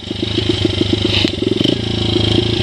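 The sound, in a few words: Honda CRF80F dirt bike engine while riding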